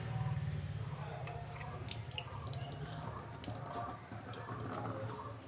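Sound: water dripping while washing fish

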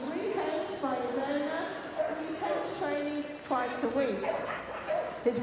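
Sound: dog barking and whimpering at an agility display

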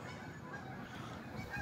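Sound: Canada geese honking while flying south

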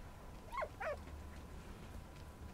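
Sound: dog barking and whimpering in the video game Valiant Hearts

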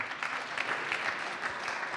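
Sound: applause in the room

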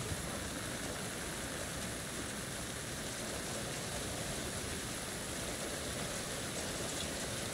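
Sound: rain in Alan Wake 2 video game

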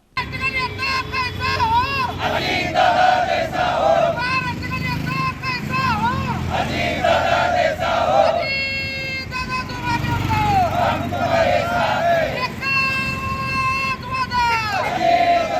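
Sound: crowd shouting slogans at political celebration

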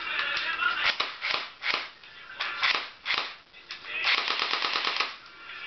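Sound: DPMS Panther Arms M4 CQB airsoft gun shooting

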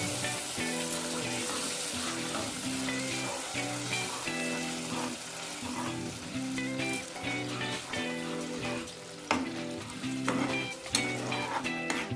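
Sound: spice paste frying in a pan

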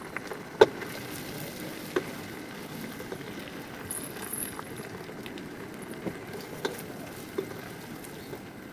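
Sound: onions frying in a pan

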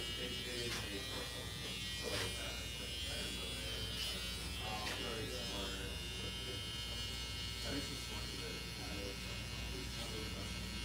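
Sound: electric hair trimmer buzzing during a fade haircut

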